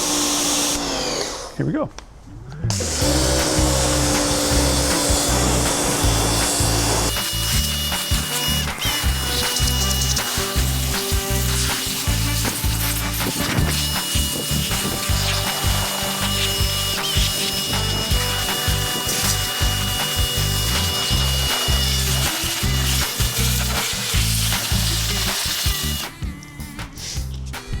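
A YerYork adjustable pressure washer fires a 4-degree tip on its minimum setting, a loud steady motor drone and hissing spray running almost nonstop after a brief start, with a short voice over it at the beginning.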